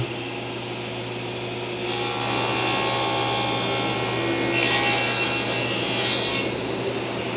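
A 45-degree miter cut in wood for box miter joints starts after a quiet moment, a sustained rasping cut lasting about five seconds that swells slightly before stopping.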